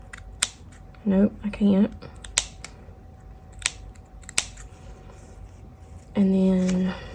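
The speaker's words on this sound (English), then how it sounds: "And then go straight across it, if I can cut it straight." Scissors snipping through scrap paper at close range in short, crisp cuts spread across the clip, with brief spoken remarks in between.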